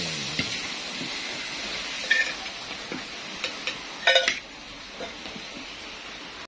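Ginataang labong, bamboo shoots cooked in coconut milk, is stirred in a pot with a spoon. Soft metallic clinks and scrapes come at irregular moments, clearest around two and four seconds, over a quiet, faintly hissing background.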